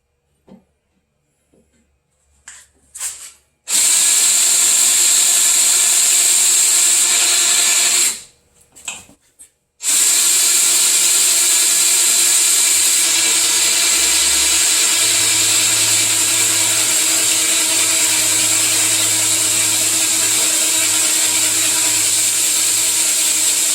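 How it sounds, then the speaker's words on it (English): A power drill with an oiled bit bores a hole, running at a loud, steady whine in two long bursts separated by a brief pause, preceded by a few clicks and handling noises. "Let's drill another hole."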